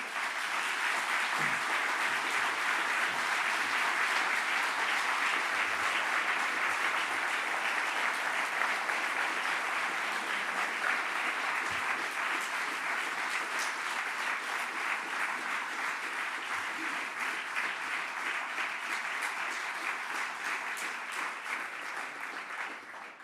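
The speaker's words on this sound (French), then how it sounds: "je vous demande vraiment d'applaudir très chaleureusement Valérie Glatini" An audience gives Valérie Glatini long, warm applause at a celebration of 180 years of Liberalism, a dense, even roll of clapping that carries on loudly for over twenty seconds and fades slightly at the end.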